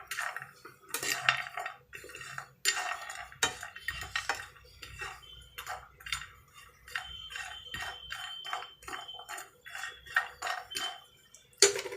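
Dry fruits and nuts being roasted in a pan for laddu, with repeated clinks and scrapes of a spoon against metal, irregular and fairly close, and no voices.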